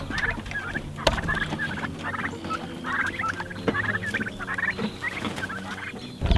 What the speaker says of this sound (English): Alright, come on out, turkeys.